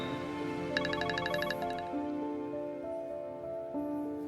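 A phone plays a melodic ringtone in a quiet indoor scene, a bright, rhythmic sequence of electronic tones that is steady and clear, with no talk over it.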